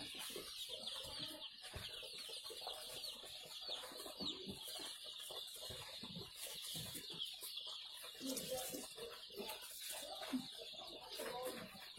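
Dense, continuous high-pitched peeping from many young Joper chicks in a pen, a busy chorus with scattered clucks and shuffling underneath, fairly close.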